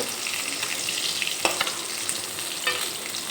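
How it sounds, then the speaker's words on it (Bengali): Pieces of rohu fish fry in hot oil with a steady, close sizzle and scattered sharp crackles and pops, with no talking. "অপেক্ষা করব মাছের এই সাইডটা ভাজা হওয়া পর্যন্ত"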